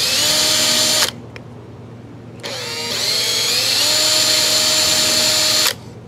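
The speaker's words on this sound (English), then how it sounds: "So I'm gonna try to drill some holes in here without breaking this thing." A power drill with a dull 7/32 bit bores holes in a 2x4 wood scrap, whining loudly in two long bursts separated by a short pause, close and alone.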